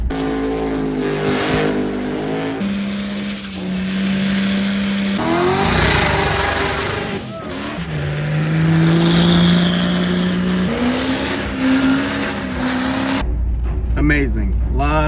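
A truck engine revs hard during burnouts at a truck meet, a loud sustained roar with rising and falling pitch as the throttle surges, continuous over the whole stretch with crowd noise mixed in.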